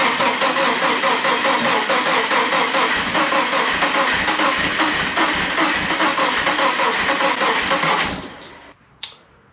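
An engine started after a week of not starting and now refueled runs steadily and loudly for about eight seconds, with a rhythmic pulsing, then cuts off abruptly, leaving a brief clunk and quiet.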